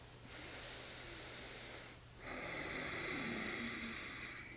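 Slow, deep breathing while holding a stretch: a long close exhale, a brief pause, then another long airy breath, soft and alone over a faint low hum.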